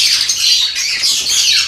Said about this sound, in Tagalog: Ang ganda nito mga ibon na to.